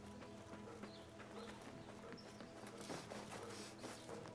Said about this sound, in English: Oh, donkeys.